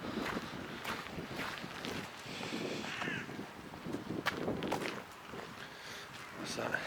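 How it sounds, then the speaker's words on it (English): Strong wind at an outdoor park in winter buffets the microphone with uneven rumbling gusts, along with faint footsteps and a voice speaking in the background. "God, the wind's bad."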